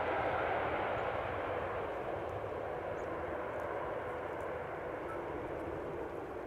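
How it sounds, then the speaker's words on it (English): A KLM Boeing 787-10 Dreamliner approaching Amsterdam Schiphol produces a broad, steady jet roar that stays loud and fairly close throughout, with no voices. "Although I am seeing a 787-10 Dreamliner now in the vicinity of Leiden, off the coast."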